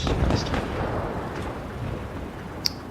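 Tank cannon fire in the mobile game World of Tanks Blitz: a broad, booming blast at the start that rolls into a sustained low rumble of battle noise, with a sharp small report near the end.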